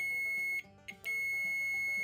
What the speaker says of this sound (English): So you got sound, that means you got continuity.